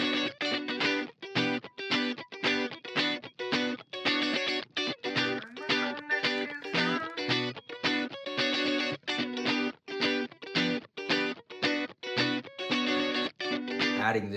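Clean electric guitar from a Stratocaster through a compressor, played as tight, rhythmic funk strumming. Choppy chords repeat steadily throughout with short muted gaps between them, loud and close, and no one speaks.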